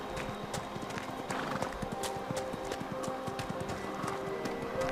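Hooves of a goat patter quickly in Dragon Age Inquisition on the Storm Coast, a rapid clopping run beneath faint ambient game sound.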